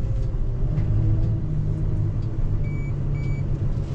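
A DAF truck's diesel engine rumbles steadily up close as it accelerates in a large yard, a loud continuous low drone with faint intermittent beeps.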